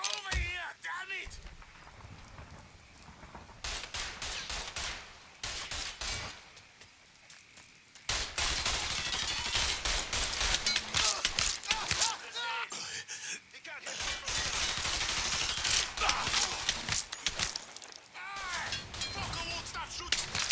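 Repeated gunfire during a cover shootout in Mafia III Definitive Edition, loud volleys coming in long bursts with brief lulls between them, mixed under frequent shouted talk.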